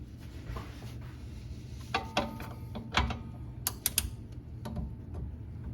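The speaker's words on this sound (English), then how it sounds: "let's go ahead and torque this thing down" A wrench torquing down the nut on a rear sway bar bolt of a 2017 Chevrolet Bolt EV, with quiet ratcheting clicks and a few sharp metallic clacks over a low background hum.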